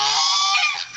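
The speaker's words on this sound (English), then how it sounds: "Duck." A duck or goose honks loudly and continuously at close range for about a second near a backyard pool tub, a harsh nasal call with no talk over it.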